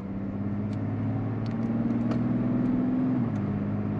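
A 2024 Mazda CX-90 three-row SUV with a V6 engine hums in a steady, smooth drone with a slight rise in pitch and then an easing off, a close, even mechanical tone without talk.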